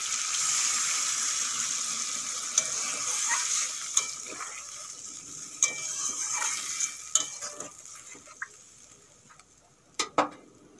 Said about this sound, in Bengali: আলুও 2 মিনিটের মতন কষিয়ে নিয়েছি, এখন দিয়ে দেবো জল।